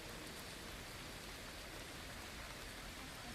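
Rain falls steadily outside at a campsite, an even, dense hiss of drops with no breaks, soft and constant throughout.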